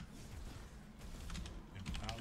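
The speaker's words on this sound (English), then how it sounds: "Cool typing skills." Fast, light keyboard clicks from someone typing on a computer keyboard during an online game. They sound faint and rattly against steady game background noise.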